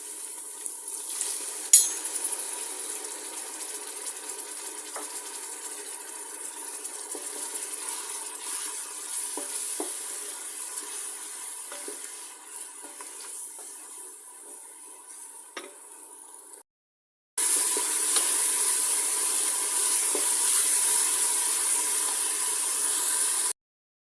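Turmeric, chili and salt sizzle and crackle steadily in a hot pan with a splash of water, with occasional scraping and clinks of a utensil; after a brief silence the sizzling resumes louder.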